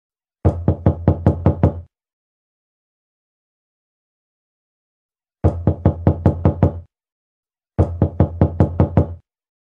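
Knocking on a door in three loud, rapid bursts of about seven knocks each, separated by silence, with no voices.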